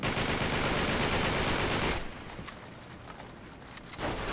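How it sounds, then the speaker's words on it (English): Rapid automatic gunfire in Uncharted 3: Drake's Deception roars loud and continuous for about two seconds, then thins to scattered, quieter shots and distant bursts before a final loud flurry. "I'm trying to shoot him in the face."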